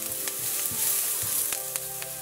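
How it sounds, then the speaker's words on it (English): Minced garlic frying in a pan, a close steady sizzle with a few stirring taps and scrapes, no voices. "Now I'm gonna add in some minced garlic and just let that go until the garlic is tender."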